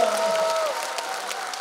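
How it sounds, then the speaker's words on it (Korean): An audience at a Korean lawmaker's constituency report meeting claps in a dense, continuous round of applause, loud and fairly close, with a faint tonal feedback hum at the start. "다시 한번 큰 박수 부탁드립니다"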